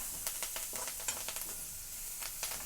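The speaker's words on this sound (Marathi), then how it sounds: "थोडीशी कोथिंबीर तेलामध्ये टाकून घेते कांद्याची पात आहे ही पण मी तेलामध्येच टाकून घेतलेले" Coriander leaves and spring onion greens sizzle in hot oil in a kadai for baingan bharta, with a steady fine crackle and scattered scraping stirs, fairly quiet and close, no talking.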